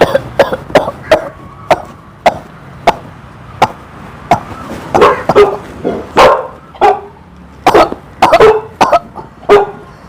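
A dog barks repeatedly and close by, sharp loud barks coming in irregular bursts with short pauses, with no talking over them.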